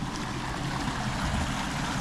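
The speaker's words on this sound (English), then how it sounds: "Come look at the massive Levenshulme waterfall." Small waterfall in Levenshulme, Manchester, giving a steady, continuous rush of running water close by, with no speech over it.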